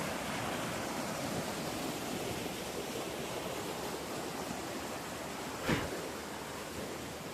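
Rainwater rushes steadily out of a drain pipe after a downpour in a continuous broadband roar, with one brief splash or knock near the end; no voices.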